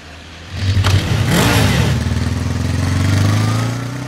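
A motorcycle engine starts up and settles into a steady, close idle with a throaty low rumble, a brief rev swelling partway through before it evens out, with no talk over it.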